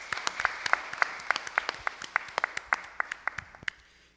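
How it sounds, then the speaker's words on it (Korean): A church congregation applauds during a Sunday morning worship service, a steady patter of many hands clapping together for about four seconds before fading out. "우리 예배를 받으신 하나님께 영광의 박수를 돌려드립니다"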